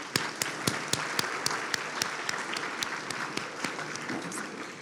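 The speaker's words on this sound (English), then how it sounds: "so let's give them a round of applause." Audience applause at the Hearts & Heroes 2025 dinner, dense steady clapping from a large crowd with a few sharp individual claps standing out in a regular beat.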